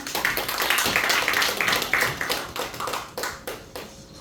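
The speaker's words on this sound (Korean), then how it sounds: "목사님한테 박수하겠습니다." A church audience claps for a pastor at a conference, a dense burst of applause that thins into scattered individual claps toward the end.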